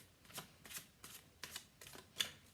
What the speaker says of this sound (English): I'm going to give this another shuffle.